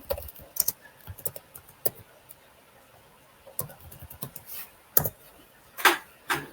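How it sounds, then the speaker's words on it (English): Typing on a computer keyboard, scattered close clicks and taps in short irregular bursts with quiet gaps between, alone without talk. "So let's just type software"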